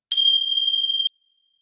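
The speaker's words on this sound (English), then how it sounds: "I'm going to ring my little tincture bells for a sec" Small tincture bells struck once, giving a bright, clear ring that holds steady for about a second before stopping abruptly, alone against silence.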